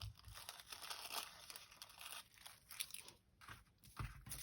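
Paper being cut for a collage, close crisp snips and crinkling of the sheet in short irregular bursts, quiet and without talk.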